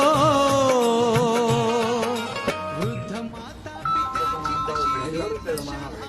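A phone rings with a melodic ringtone, a call from Tatya, tones repeating clearly over background music and voices.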